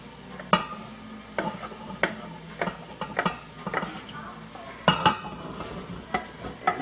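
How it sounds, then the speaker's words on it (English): A roux and vegetable mix for gumbo gets worked into browned sausage in a pot, with repeated scraping stirs at a steady rhythm over a soft, continuous sizzle, close and fairly loud. "now that the sausage is browned, we're going to go ahead and take our roux, and we're going to go ahead and put it on up in there"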